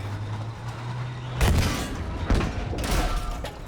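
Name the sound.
Sherman tank cannon fire in Battlefield V video game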